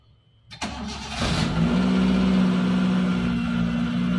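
A Mahindra Scorpio with an engine check light on is started with the self-starter: a short starter crank, then the engine catches and settles into a loud, steady close-up idle with a humming tone.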